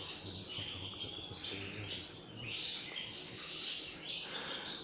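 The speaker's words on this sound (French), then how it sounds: "il y a les oiseaux" Several birds chirp and tweet in short, repeated bursts over a faint, constant outdoor background, with no one talking.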